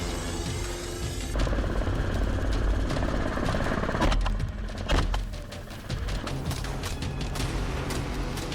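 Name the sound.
helicopter flying during wild boar hunt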